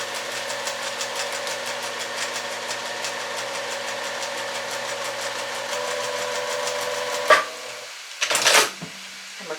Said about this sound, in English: then I'm going to watch this as I sew